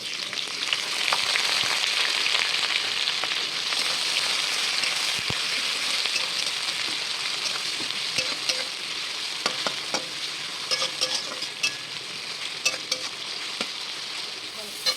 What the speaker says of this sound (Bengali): এবার আমি কড়াইতে দিয়ে দেবো তেল, ফোড়নে শুকনো লঙ্কা আর গোটা জিরে। ঠিক আছে, ফোড়নটা তোমার দিয়ে দেবো আমি কুচনো পেঁয়াজ।